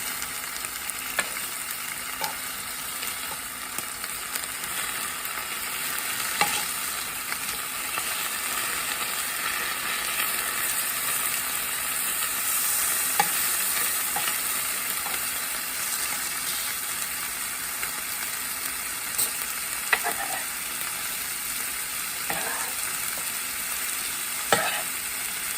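Pork pieces heating in a pan for a Cubano sandwich, a continuous close sizzle and crackle with occasional stirring scrapes and small pops throughout, no talking.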